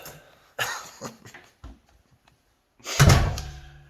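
A few soft bumps and shuffles, then a bedroom door swings shut with a solid thud near the end, close by and fairly loud, on a windy day.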